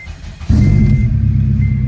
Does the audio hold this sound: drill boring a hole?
no